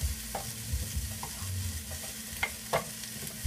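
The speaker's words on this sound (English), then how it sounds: "we're going to let that cook down till all of the veggies are sauteed" Mixed vegetables and spinach sauté in a pan, making a soft continuous sizzle punctuated by several sharp scraping stirs of a utensil, close by, with no voices.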